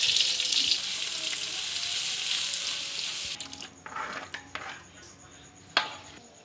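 Ingredients for capcay sizzle and crackle loudly in a hot pan for about three seconds, then the frying drops away to quieter clatter and a few sharp utensil knocks.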